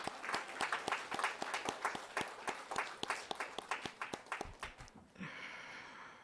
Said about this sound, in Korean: 우리 앉아서 고생하시는 우리 렘넌트에게 위로와 감사의 박수를 보내겠습니다